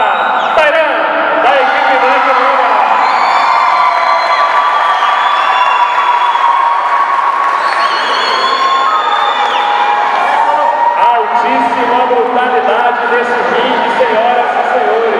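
A large crowd roars and cheers without letup at a Muay Thai fight in the ring, loud and close, with shouts, whoops and scattered clapping woven through the din.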